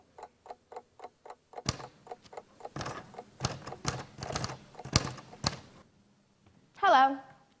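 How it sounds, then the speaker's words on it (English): A mechanical typewriter tapped in a quick run of sharp, evenly spaced keystrokes at close range, then heavier uneven strikes, ending with a bright rising ratchet-like zip of the carriage return. "This machine makes a noise too. Do you know what it's called? It's called a typewriter."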